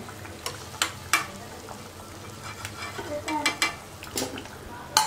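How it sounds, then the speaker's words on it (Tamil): Bread pieces fry in oil in a pan under a soft, continuous sizzle. Several sharp metallic clinks and scrapes from the utensil stand out at irregular moments. "எல்லா ப்ரெட்டும் இதே மாதிரி பொறிச்சு எடுத்துக்கலாம்"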